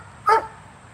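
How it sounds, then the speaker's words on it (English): A dog named Apollo gives a single sharp, loud bark close by, followed by quiet room tone. "Apollo, no more barking."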